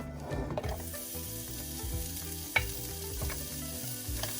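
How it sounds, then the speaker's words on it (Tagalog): Onions frying in oil in a pan as they are stirred, a loud continuous close sizzle with rhythmic scraping strokes and one sharp clink. "here first I'm going to put the oil and then onions,"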